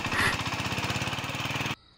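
A human voice imitates a shallow water pump machine with a rapid, rhythmic chugging pulse, loud and close, before cutting off abruptly into near silence.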